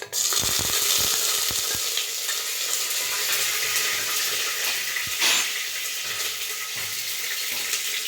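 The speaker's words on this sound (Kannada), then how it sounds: "ಈಗ ಹಾಗೆ ಒಗ್ಗರಣೆಗೆ ಈರುಳ್ಳಿ ಕಟ್ ಮಾಡಿದ್ರಲ್ಲ ಅದು ಹಾಕ್ತಿದ್ದಾರೆ" Chopped onions dropped into hot tempering oil with curry leaves for a ridge gourd and chana dal kootu, a loud crackling sizzle with sharp bursts at the start and stirring scrapes throughout.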